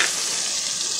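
Chopped bottle gourd sizzles and fries in a pan, a close, steady hiss for about a second with no voices.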